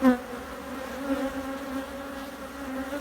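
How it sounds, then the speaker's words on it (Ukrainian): Honey bees hum around a hollowed log hive, giving a steady, close, droning buzz that holds at a fairly even level throughout, with no voices. "Такі бджолки добрі."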